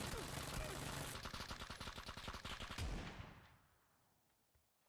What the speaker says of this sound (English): Using short bursts at medium range, full auto, can give you a few rounds in a tight grouping